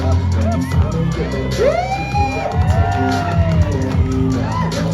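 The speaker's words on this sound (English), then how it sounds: "Let's give a big round of applause for contestant number 8." An audience at a bodybuilding contest during a Delhi freshers meet cheers for a contestant, with whoops, shouts and whistles rising over steady crowd noise and some voices mixed in.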